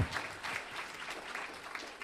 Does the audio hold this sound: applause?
yes